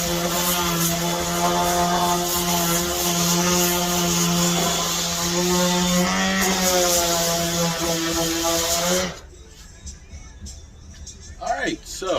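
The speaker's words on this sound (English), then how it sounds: "So I'm going to finish planing these out, rounding these out, and we'll sand them" A power planer shaping wooden gutter moulding, a loud steady whining hum with a strong tonal drone that runs for about nine seconds before cutting off, leaving faint shop noise.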